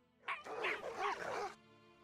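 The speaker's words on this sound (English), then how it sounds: "They're all turned to puppies." Puppies bark and yip in the Dracula Love Kills video game, a short burst of high, excited yapping and whimpering lasting about a second and a half, loud and close with no talk.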